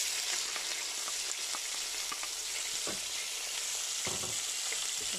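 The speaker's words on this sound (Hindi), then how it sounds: "तो बस इसको 3 मिनट तक हम अच्छे से फ्राई करेंगे इसमें" Onion and cumin seeds frying in hot oil, a steady close sizzle with a few soft clinks and scrapes of stirring, no voices.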